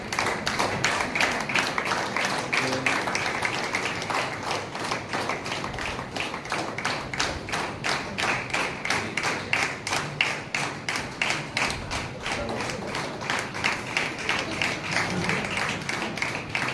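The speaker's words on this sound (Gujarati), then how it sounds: "ત્યારે આપણે તાળીઓથી તેમનું સન્માન કરીશું" An audience claps to welcome a bishop at a ceremony, a long run of steady, rhythmic unison handclaps, close and sustained throughout.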